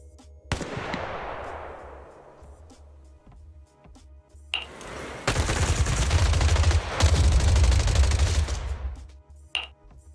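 Sharp gunshots in the video game ZZZ crack out, one echoing decay, then a dense sustained burst of rapid automatic suppressive fire for several seconds before a final lone shot.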